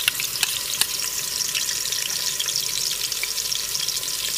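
Ground ginger-garlic paste sizzles steadily in hot oil in a pot for beef daleem, a close, continuous crackling fry with a few faint stirring knocks and no talking.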